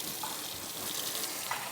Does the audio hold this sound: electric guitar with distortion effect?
no